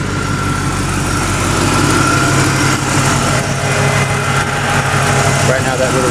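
A Ford Fairmont wagon engine idles steadily up close with its small radiator fan whirring on top, a continuous mechanical drone with light rattle.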